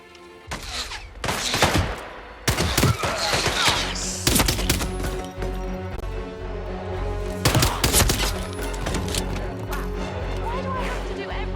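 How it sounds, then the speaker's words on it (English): Gunfire in the video game Hitman 3, loud bursts of shots crackling in clusters near the start and again later, over a constant game background with voices talking. "There's somebody shooting!"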